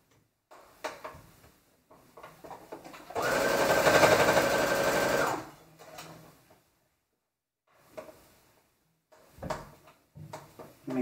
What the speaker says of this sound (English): Make sure this is aligned as I go around.